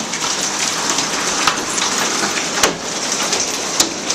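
Quarter- to dime-size hail pummels a glassed-in porch roof during a Phoenix storm, a dense continuous hiss of impacts with sharper pops of individual hailstones striking every second or so, loud and close.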